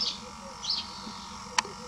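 Small birds chirp near two birdhouses in the early morning, giving a few faint, brief high tweets spaced apart over steady outdoor background hiss, with one sharper click-like call near the end.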